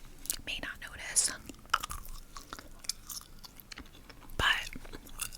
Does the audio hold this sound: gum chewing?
yes